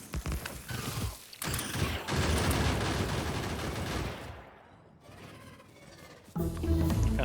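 Rapid turret gunfire in Factorio during turret creep, a dense, sustained chatter of shots with a brief lull midway before the firing swells again, loud and continuous with no voices.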